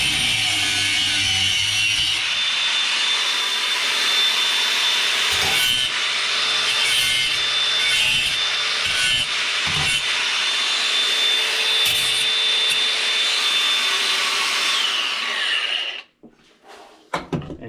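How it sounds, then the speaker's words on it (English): A cutting wheel grinds and smooths metal during work on a 1989 Suburban, a loud, continuous abrasive whine with brief knocks and shifts in pressure, running steadily for about sixteen seconds before winding down and stopping. "I'm not supposed to hit it with that cutting wheel to grind it, to smooth it"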